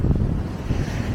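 Strong wind at Kollam beach in Kerala buffets the microphone with a loud, low, gusting rumble, with a hint of surf beneath and no talk.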